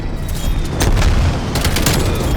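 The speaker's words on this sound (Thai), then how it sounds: "นั่นปาระเบิดมาด้วย" A loud, booming grenade blast in Call of Duty: Black Ops Cold War rolls over continuous battle noise, with a second burst of rumbling close behind.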